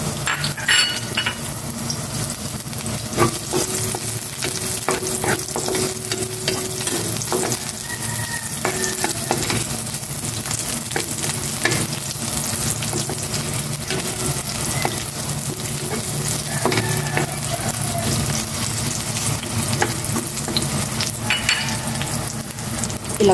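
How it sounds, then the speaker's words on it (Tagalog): Sliced onion sizzles in hot cooking oil, a steady crackling fry that runs without a break, with scattered clicks and scrapes of a spatula stirring it through the pan. "Gisa ko lang yung sibuyas."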